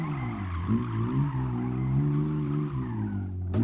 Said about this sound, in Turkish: Gelmez mi benzinlikle bir drift?